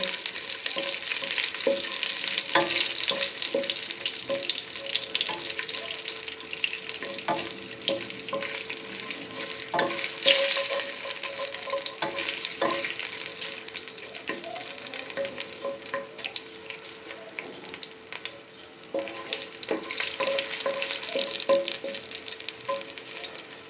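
Dried red chilies, bay leaves, cinnamon and cardamom fry in a small amount of hot oil for aloo dum, with a steady crackling sizzle and occasional stirring scrapes throughout, no voices.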